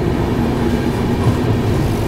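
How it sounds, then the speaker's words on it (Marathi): A train sits at a station shortly before departure, its low rumbling engine drone and faint rail clatter steady and close, with no voices. "बघू शकता आता जस्ट थोड्याच वेळात ट्रेन निघणार आहे"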